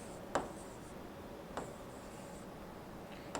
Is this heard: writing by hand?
yes